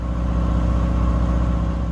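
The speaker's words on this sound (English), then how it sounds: "The engine is now playing up. I don't know if you can hear it too well, but the revs keep peaking" A narrowboat diesel engine runs loud and close with a steady low throb, its revs surging from a fault.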